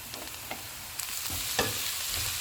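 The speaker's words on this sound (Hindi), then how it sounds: "अब इसमें गाजरें डाल देंगे। इनको हम 1 मिनट तक फ्राई करेंगे।" Carrots frying in a pan, a continuous soft sizzle broken by a few stirring scrapes and taps, close and alone with no voices.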